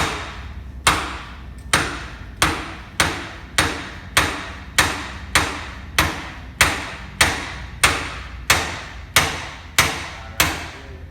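A king pin is hammered into place with a regular series of around fifteen crisp metallic blows, evenly spaced and close, each ringing briefly before the next.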